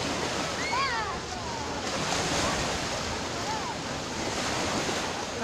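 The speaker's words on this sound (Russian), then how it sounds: "Прислушайтесь. Как шумит море." Sea waves rush and hiss in a steady broad wash, mixed with wind noise, with a few faint high seagull cries in the background.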